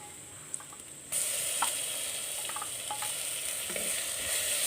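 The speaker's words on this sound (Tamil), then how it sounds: "இந்த பச்சை வாசனை போகிற அளவுக்கு நல்லா வதக்கி விட்டுக்கலாங்க" Ginger garlic paste and onions sauté in oil, starting with a quieter hiss before a loud burst of frying sizzle takes over, with occasional light taps and scrapes as the mixture is stirred.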